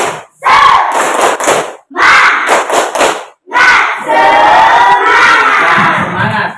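Schoolchildren performing a 'tepuk semangat' spirit cheer in a classroom: three loud bursts of group chanting and rhythmic clapping separated by short pauses, then a longer sustained stretch of shouting and clapping, all close and energetic.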